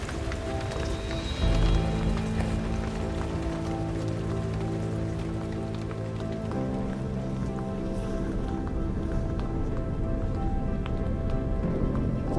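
Steady rain patters on a surface throughout on a hike along the Kerry Way in Ireland, a dense even hiss with a low tonal hum running underneath.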